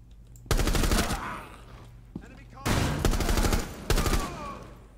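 Loud bursts of rapid automatic gunfire in Rainbow Six Siege, three sustained volleys separated by short pauses, close and dominant with a single sharp shot between them.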